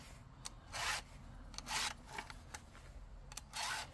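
Rhythmic rasping strokes of a freshly sharpened hand saw cutting firewood, about four bursts at a steady pace, fairly quiet with short pauses between strokes.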